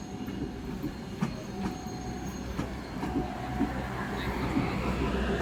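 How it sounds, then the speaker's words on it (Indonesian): The Pangrango New Generation passenger train rolls in along the rails, with a low steady rumble, rhythmic wheel clacks and thin squeals, heard from nearby at moderate volume and without talking. "Ini dia kereta api Pangrango New Generation."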